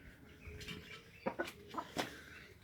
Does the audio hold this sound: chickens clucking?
yes